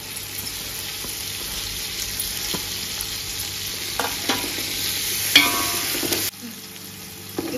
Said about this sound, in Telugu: ఆనియన్ పుదీనా అన్ని బాగా ఫ్రై అయింది.